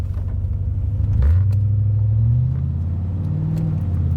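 A C4 Corvette with a rebuilt transmission pulls away from a stop, its engine rumbling up in pitch as it accelerates, eases briefly, then climbs again, heard loud from inside the car.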